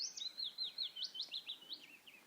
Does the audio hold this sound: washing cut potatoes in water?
no